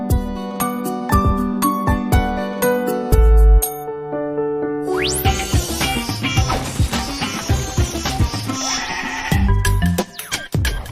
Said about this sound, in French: la brebis ensuite mange ces fourrages-là